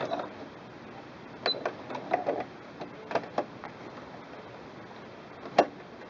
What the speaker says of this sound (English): Now continue to sew onto the heavier layers of fabric and your button will disengage itself.